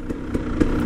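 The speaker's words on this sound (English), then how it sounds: "If you're wondering why the bike is so loud" A KTM 300 EXC two-stroke dirt bike fitted with an FMF exhaust belly and stock end can, running loud and close with a steady rasping engine note and brief pulsing surges.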